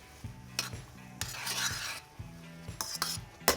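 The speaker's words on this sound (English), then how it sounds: "I'm going to go ahead and turn the heat off completely. And swirl it into a sauce" Butter swirled into a garlic shrimp sauce in a pan off the heat, heard as soft rhythmic stirring and scraping with metal utensil clinks against the pan and a faint sizzle, no voices.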